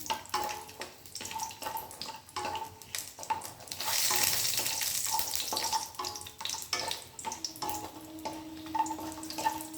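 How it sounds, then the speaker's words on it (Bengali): Lentil dumplings (bori) fry in hot oil with a continuous sizzle, punctuated by regular clicks and scrapes of stirring at close range, swelling louder briefly midway. "বড়িগুলো ভাজা হয়ে গেছে, এবার আমি তুলে নিচ্ছি।"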